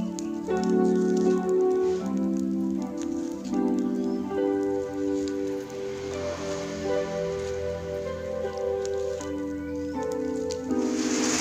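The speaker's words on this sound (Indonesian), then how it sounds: "Dan akhirnya turun hujan" Steady rain falls outdoors, a continuous soft patter that runs the whole way through beneath prominent melodic music.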